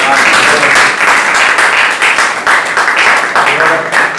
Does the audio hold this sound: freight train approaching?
no